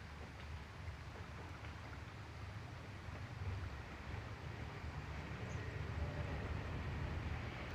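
Steady rushing flood water during rain roars continuously at low volume, a broad, even wash of noise with a slight swell toward the end.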